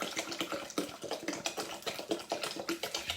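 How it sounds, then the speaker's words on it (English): Water is poured into a Thermomix while making ginger beer: a steady, close splashing and gurgling stream with uneven little surges and no talking. "So let's add the rest of the water."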